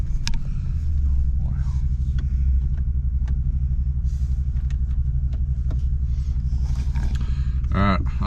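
A Jeep drives over rough off-road ground in the Superstition Mountains, its engine and tyres giving a steady, loud low rumble throughout, with voices talking over it and a brief rattling burst near the end.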